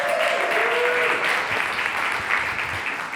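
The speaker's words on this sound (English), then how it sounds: "Can we give a big round of applause to Judy?" A conference audience applauding, a dense, even burst of clapping that holds steady for a few seconds, with a faint voice briefly audible under it.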